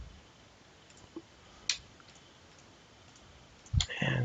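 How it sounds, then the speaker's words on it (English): Computer mouse clicks during spreadsheet work, a few sharp isolated clicks spaced apart over a quiet background, then a soft thud and shuffle near the end. "Right click and delete."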